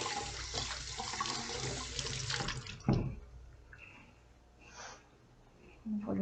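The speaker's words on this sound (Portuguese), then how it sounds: "Eu só vou lavar minha mão." Tap water runs steadily into a kitchen sink while hands are washed, a close, broad hiss with small splashes. The water shuts off partway through, leaving quieter handling noises and a soft voice.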